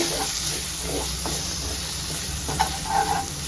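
Squid masala fries in oil in a pan, hissing and sizzling steadily up close, with a few stirring scrapes over the constant fry.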